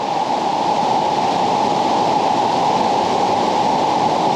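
A waterfall throws off misting spray in a loud, unbroken roar of rushing water that fills the space evenly and close by, with no breaks or voices.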